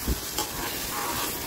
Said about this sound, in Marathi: कढईत टाकवलं तेल, किसलेला कांदा आणि टोमॅटो टाकलाय फोडणीला